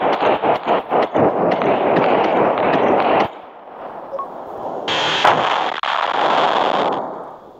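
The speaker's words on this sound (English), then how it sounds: "That's how you make a big explosion." A video game explosion destroying Earth: a rapid run of loud booming blasts, then a broad rumbling roar that fades, with a hissing burst layered on top near the end.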